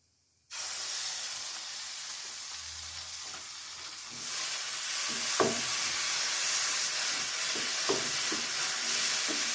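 Fresh ground raw tomato paste hits hot oil in a pan for egg pappadam curry, a sudden steady sizzle that grows louder partway through, with a few soft clicks of stirring near the mic.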